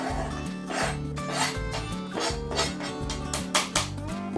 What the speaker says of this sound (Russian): Лук режем полукольцами.